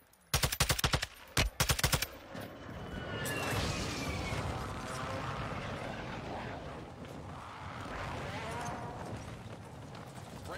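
Gunfire in the video game Warzone 2: a sharp burst of rapid, loud shots in two quick clusters, then a steady rushing background with faint game effects.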